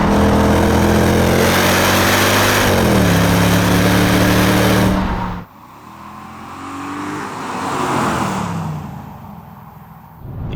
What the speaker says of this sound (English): Yep, that is a very, very healthy engine.